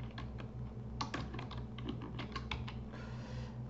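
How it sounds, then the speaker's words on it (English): Fingers type text quickly on a computer keyboard, a close, continuous run of light key clicks with no talking. "So we'll just simply type something here"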